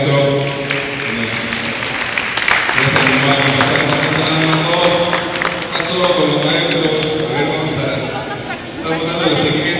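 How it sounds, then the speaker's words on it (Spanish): Teachers and audience at a conference applaud in a steady round of clapping mixed with crowd chatter and a speaker's voice over the top. "Un aplauso, por favor, acá, maestro."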